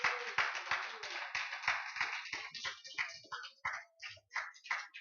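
A church congregation claps rhythmically to acclaim Jesus Christ at a French-language service, a fairly close run of sharp, steady claps that loosens and thins toward the end.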